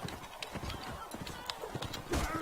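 Horse hooves clip-clop at a gallop in the medieval combat game Mount and Blade Warband, a quick uneven run of thuds amid game clatter and murmuring voices, with a louder burst near the end.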